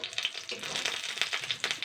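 Spinach and egg fritters fry in a pan and are turned over, giving a steady crackling sizzle with small scraping bursts, close and moderately loud with no voice.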